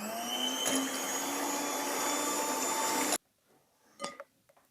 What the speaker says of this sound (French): Et là, tu vas venir battre à vitesse lente.